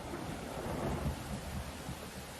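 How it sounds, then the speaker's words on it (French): A thunderstorm with heavy rain, a dense, steady roar of rainfall with a low rumble swelling briefly, with no voices over it. "J'ai peur quand il pleut comme ça."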